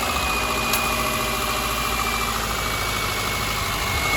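A 2009 Subaru Forester engine idles steadily just after starting, a continuous mid-pitched hum with even vibration throughout, close and alone with no talking.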